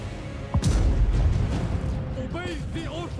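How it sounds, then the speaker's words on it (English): A single heavy cannon boom goes off near the start of a video game battle, followed by a rumbling tail and someone talking over the game sounds. "300 damage in one shot. That's the power of cannons."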